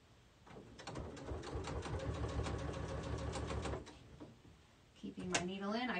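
Home sewing machine stitching HeatnBond fabric scraps into a mug rug runs in a fast, even mechanical rattle for about three seconds, then stops; a voice speaks briefly before and after the run.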